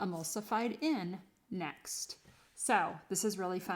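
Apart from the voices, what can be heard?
No everyday noise stands out behind the speech.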